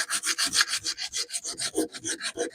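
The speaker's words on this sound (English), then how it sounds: "You're going to need sandpaper for kind of distressing this edge here." Sandpaper rubbed back and forth along the painted edge of wooden furniture to distress it, a steady rhythmic rasping of about a dozen close, even strokes with no talk.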